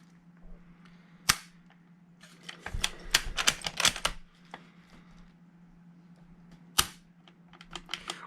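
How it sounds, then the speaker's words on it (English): Trigger pulls on a PPS/Tanaka Kar98 airsoft rifle give sharp, dry mechanical clicks and snaps, some single and some in quick clustered runs with handling rattles, close by and fairly quiet over a faint steady hum. "You're going to notice an immediate sound difference when you pull the trigger."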